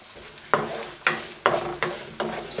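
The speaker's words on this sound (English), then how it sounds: "Just gonna go ahead and let this saute down." Mushrooms sautéing over medium to medium-high heat hiss in a pan, punctuated by five regular scraping stirs about every half second, close and fairly loud.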